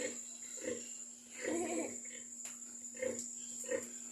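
A pig grunting in short, repeated bursts close by, several rough low snorts spaced through the clip over a steady electrical hum, with a faint voice underneath.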